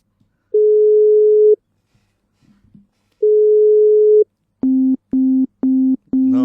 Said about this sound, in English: Line busy.